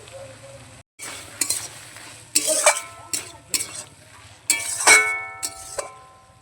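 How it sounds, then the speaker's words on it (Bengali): Prawns frying in a pan for a Bengali chorchori, with a constant sizzle under repeated sharp scrapes and clinks of a metal spatula stirring against the pan, close and fairly loud. "তো বন্ধু, এবারে চিংড়িগুলো দিয়ে দেবো।"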